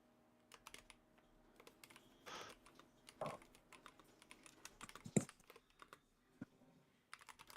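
Keys clatter on a computer keyboard in irregular bursts of typing with brief pauses, close but fairly quiet, with no speech.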